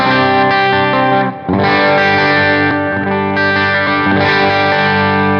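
Electric guitar chords ring out with a thick, boosted, slightly overdriven tone and a touch of reverb, with a brief pause between strums.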